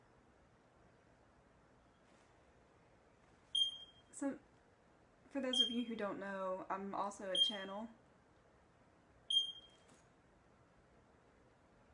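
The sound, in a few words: smoke alarm beeping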